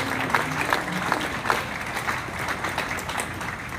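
A crowd applauds at the 2021 Minnesota State Fair FFA awards show, with steady, dense clapping from many people that sounds even and sustained throughout.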